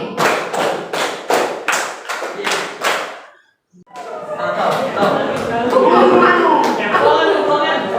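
A classroom of students claps a patterned rhythm together, about seven quick, even claps in a row, followed by a short pause and then lively chatter and laughter from the group.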